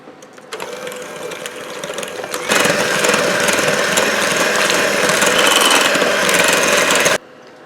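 An electric mixer beats eggs into chocolate cheesecake batter with a steady whirring drone that jumps noticeably louder partway through, then cuts off abruptly near the end; no one speaks.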